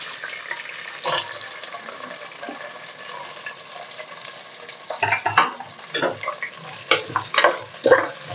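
Chopped onions frying in oil in a pan, with a steady sizzle and intermittent close scraping stirs that grow busier and louder toward the end.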